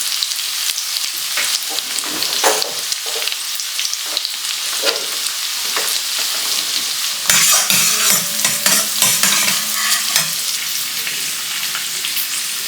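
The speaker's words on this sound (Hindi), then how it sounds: "अब यहाँ पे प्याज को भूनो" Onions fry in a pan for a potato-and-eggplant curry as a spatula stirs and scrapes repeatedly. A steady sizzle runs underneath, and a louder burst of hissing comes partway through. No voices.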